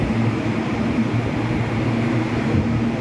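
Class 397 TransPennine Express train on an Edinburgh to Manchester Airport service passing at Carlisle, a steady rumbling roll with a low droning hum, close and continuous with no talk.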